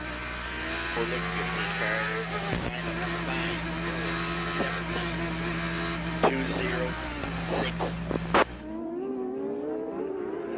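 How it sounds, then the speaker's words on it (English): A race car at the 1997 Long Beach street circuit brakes heavily into turn six, its engine droning loudly with shifting pitch and brief sharp spikes before cutting off near the end. "Heavy braking here for turn number 6."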